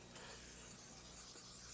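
Pam cooking spray hisses steadily into a pan in one continuous close burst, with no talking over it.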